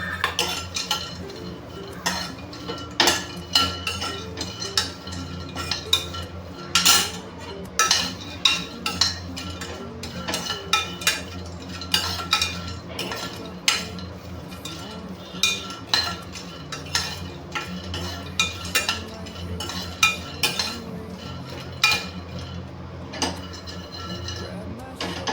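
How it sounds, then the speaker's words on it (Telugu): Coconut pieces frying in a pan for a bottle gourd (sorakaaya) curry, with frequent metallic clinks and scrapes of a utensil stirring against the pan over a steady low background, close and fairly loud, with no talk. "ఈ విధంగా ఫ్రై అయిన తర్వాత కొన్ని కొబ్బరి ముక్కలు కూడా వేసుకొని ఫ్రై చేసుకుందాం"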